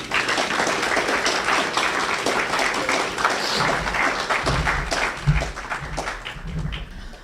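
An audience at a high school public speaking final claps steadily for the student speakers, a dense sustained applause with a few louder claps near the end.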